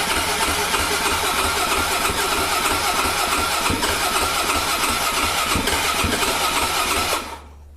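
A cold 2006 Yamaha WR250F dirt bike engine starts and runs with a loud, close, rough idle that sputters steadily for several seconds, then drops away suddenly near the end.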